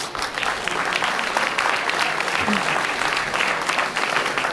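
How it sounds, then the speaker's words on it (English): Steady applause from the audience at a 2023 parish senate political forum in Iberia Parish, broad and continuous throughout with no other sounds standing out. "How about a round of applause for our candidates?"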